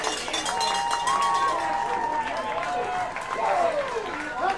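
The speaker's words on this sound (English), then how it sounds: "you can hear this crowd going crazy out here, folks" A Friday-night football crowd roars steadily at a game against the Pirates as a touchdown nears: dense, continuous cheering and clapping from a large crowd, with a commentator's voice running over it.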